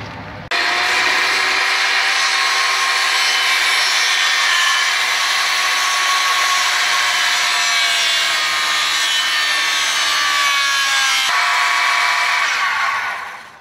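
A circular saw rips steadily through wood for a door jamb extension, one continuous loud cut lasting over ten seconds with a bright, rasping whine, then stopping abruptly.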